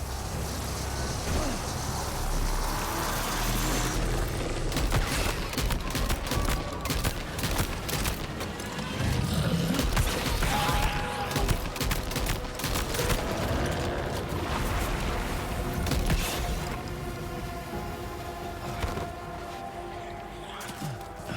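Shotgun blasts in Death Stranding 2 boom repeatedly, loud and close, over a continuous bed of dense, noisy game sound.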